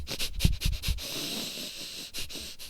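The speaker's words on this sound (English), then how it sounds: "So stage 1 is the chaotic breathing." Rapid, irregular sniffs and snorts through the nose during a dynamic meditation, then a stretch of airy hiss before more quick nasal breaths; close and fairly quiet, with no talking.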